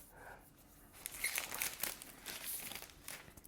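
Plastic packaging crinkles and tears as it is ripped away from a new Apple keyboard. There are bursts of rustling and crackling at close range, fairly quiet and with no talk.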